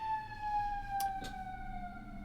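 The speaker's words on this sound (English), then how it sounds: "things like this, like sirens, because I live in a city." An emergency vehicle siren in a city wails steadily with a slowly falling pitch, loud and continuous, while a couple of brief sharp noises cut through midway.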